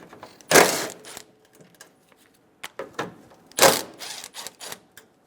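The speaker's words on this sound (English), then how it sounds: "remove the 2 bolts for the grille." 10mm socket on a ratchet backing out the grille bolts on a 2005-2015 Toyota Tacoma: two loud bursts of rapid clicking with sparse small taps between them.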